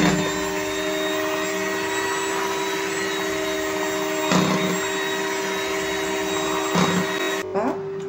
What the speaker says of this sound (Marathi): तर आता आपण एकदा फक्त बीटर फिरवून घेऊया